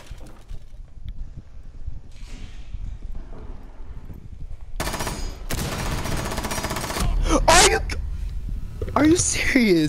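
Close rapid bursts of gunfire in Rainbow Six Siege, loud clustered automatic shots in the second half, with a voice talking over quieter game ambience earlier.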